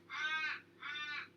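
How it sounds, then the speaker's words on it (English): A crow caws twice outdoors, two drawn-out harsh calls with a short pause between them, clear and moderately near against a quiet background. "listen to that crow outside."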